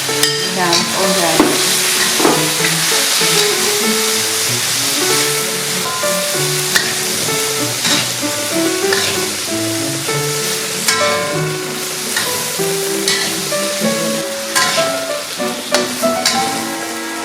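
Shrimps and French beans are stir-fried together in a pan with a steady sizzle and repeated stirring and scraping. A tonal background runs underneath for the whole stretch.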